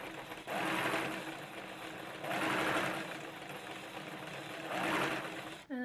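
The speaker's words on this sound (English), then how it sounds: "And then just sew at whatever speed you're comfortable with." A home sewing machine stitches a fitted fabric face mask along a quarter-inch seam in three steady bursts of running, each separated by brief pauses, close and fairly loud with no talking.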